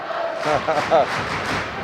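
Ice hockey arena crowd singing together in a loud, reverberant wash of many voices, with brief swells, from a Nottingham Panthers versus Manchester Phoenix EIHL game.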